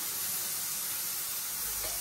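Turmeric tipped into hot frying oil in a pan gives a dense, continuous hissing sizzle that stays loud and even throughout, heard up close with no voices.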